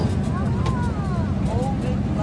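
Steady low engine rumble of a tractor driving along a road, continuous and loud close by, with wind buffeting and voices talking over it.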